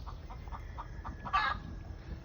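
Laying hens cluck softly in a farmyard in a quick run of short repeated notes, followed by one louder squawk, with a low background hum.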